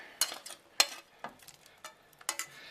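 Pork pieces dropped and stirred into a pan of simmering pork green chili, giving several separate scraping, clinking stirs with a soft sizzle between them, close by with no talk.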